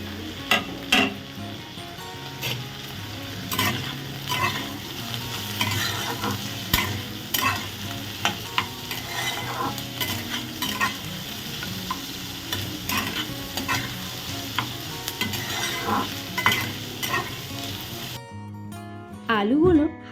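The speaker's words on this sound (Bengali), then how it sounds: "হালকা পেঁয়াজ ভাজার মধ্যে আমি দিয়ে দিলাম আলু" Small-cut potatoes frying with lightly fried onion in a pan. They give a continuous sizzle, and repeated scraping stirs clatter over it before the sound cuts off near the end.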